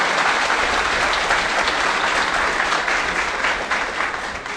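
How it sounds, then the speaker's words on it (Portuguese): Audience at a national congress applauding a birthday tribute, loud, dense sustained clapping that holds steady and tapers slightly near the end. "Uma salva de palmas para o nosso aniversariante."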